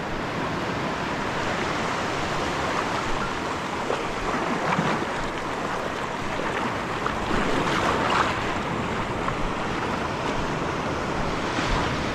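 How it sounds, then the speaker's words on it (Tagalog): Heavy surf roars continuously, broadband and steady, with wind buffeting the microphone; waves crash around without pause and no voices are heard. "Grabe, ang lalaki naman ng alon dito talaga."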